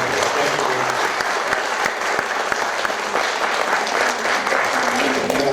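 Theatre audience at a mono acting festival applauding after a performance, sustained, dense clapping that holds steady throughout with scattered crowd noise.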